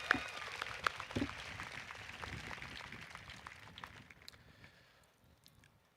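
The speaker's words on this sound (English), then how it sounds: "one more round of applause" A large crowd at the Berkeley High class of 2025 graduation ceremony applauds, a broad wash of clapping that swells early and then gradually thins and fades out near the end.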